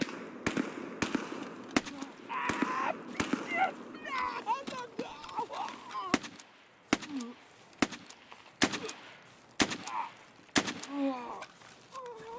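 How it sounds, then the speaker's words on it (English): AK rifle gunfire in a first-person shooter video game, sharp single shots cracking at irregular intervals, some near and loud, others more distant, over a player talking throughout. "Kind of want to wait till I hear that AK one more time."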